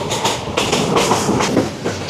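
Sonar Bangla Express passenger train running on rails between Chittagong and Dhaka, a steady loud rumble with rhythmic clickety-clack of wheels over rail joints, heard close from on board.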